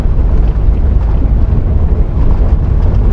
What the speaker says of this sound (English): Fairly windy day today.